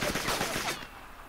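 Rapid gunfire from the video game The Swindle crackles in a quick burst of about half a dozen shots, then cuts off into a faint tail.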